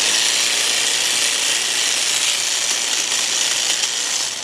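A Milwaukee M18 Fuel hedge trimmer attachment cutting through a large branch, giving a loud, steady, high-pitched mechanical whir that runs without a break.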